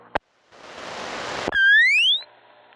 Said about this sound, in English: there was definitely another beep in there